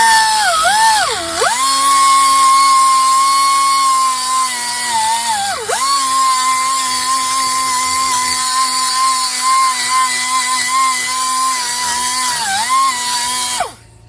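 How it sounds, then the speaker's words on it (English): A high-pitched Central Pneumatic air tool with a carbide cutter whines steadily as it grinds corrosion from inside a 2006 Buick Lucerne rear wheel hub, its pitch dipping briefly under load several times before it cuts off. "I just have a little carbide cutter on here, and I'll just go over here and remove some of this corrosion from the inside really lightly"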